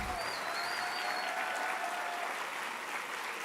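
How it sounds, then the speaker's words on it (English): A convocation audience applauds the conferral of an honorary doctorate, a sustained, even wash of clapping from a large hall heard at a moderate distance without a break. "Let us seal this moment, ladies and gentlemen, with a huge, thunderous round of applause."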